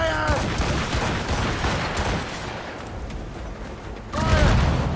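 Ship cannons firing during a naval battle in Assassin's Creed Rogue, a continuous roar of booming volleys and crashes, loud and dense, with shouted voices of crew over the din.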